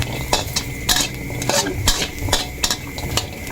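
Fermented fish paste is stir-fried in a pan with a utensil, making rhythmic scraping and clanking strokes about every third of a second over a low sizzle, close and steady, with no talking.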